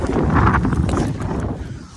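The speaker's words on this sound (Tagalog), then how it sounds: "Mahangin." Gusty wind blows outdoors on a cold morning of the first October snowfall in Saskatchewan, buffeting the microphone with loud rumbling bursts that ease off toward the end.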